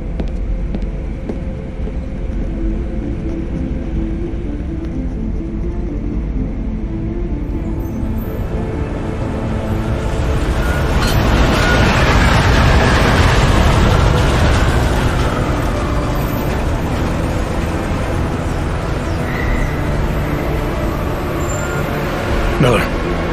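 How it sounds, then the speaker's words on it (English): A train in the video game Deus Ex: Mankind Divided, pulling into a Prague station, makes a loud, continuous low rumble that swells in the middle and holds steady, with faint voices mixed in. "Just getting off the train now."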